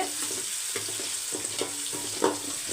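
Sliced large onions frying in a pan give a steady, moderately loud sizzling hiss, broken by faint scraping stirs and a brief sharper spatter near the end.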